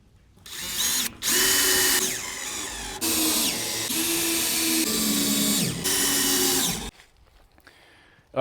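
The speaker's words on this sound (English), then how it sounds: "So we're ready to screw this thing on." A power drill drives screws into a wall panel, anchoring into the studs behind: four long, loud whirring bursts with brief pauses between, each ending in a rising pitch as the screw seats, then a quiet stretch at the end.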